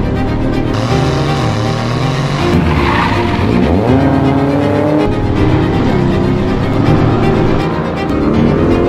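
A loud Aston Martin Vantage engine roars steadily at high revs in track mode, with tire squeal and skidding mixed in, as if the car is pushed hard around a track.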